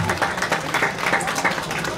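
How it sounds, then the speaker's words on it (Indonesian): An audience at a comedy performance at a temple applauds, a dense burst of many hands clapping close by for a couple of seconds, with no talk over it. "tepuk tangan untuk kita semua"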